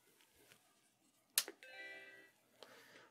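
Startup chime from a Macintosh SE/30 under board repair: after a faint click and a sharp snap, a single sustained harmonic tone sounds for under a second, followed by quieter clicks, with no talking.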